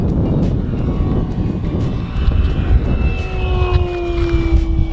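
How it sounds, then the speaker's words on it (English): A Hangar 9 Ultra Stick 60-inch balsa RC plane makes a full-throttle pass, its engine note holding as a steady sustained tone that slides gradually lower as it passes, over strong wind rumble outdoors. "we'll shoot for another full throttle pass"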